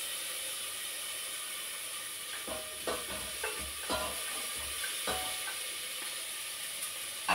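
Garlic, tomato and onion frying in a pan make a steady sizzle and hiss, with a series of stirring scrapes and clacks from a utensil through the middle.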